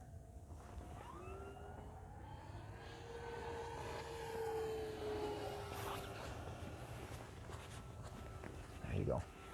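An FMS F4U Corsair 1.7m RC model plane makes a full-throttle pass, its propeller whine rising and falling in pitch as it sweeps by at a distance while people talk nearby.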